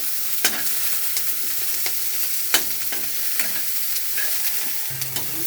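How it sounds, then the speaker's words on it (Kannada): Chopped onions frying in oil while being stirred for a ridge gourd palya, with a steady sizzle and occasional spoon scrapes against the pan; no one speaks. "ಈ ಥರ ಫ್ರೈ ಮಾಡಿ ಈರುಳ್ಳಿ ಎಲ್ಲ ಸ್ವಲ್ಪ ಫ್ರೈ ಆಗಬೇಕು"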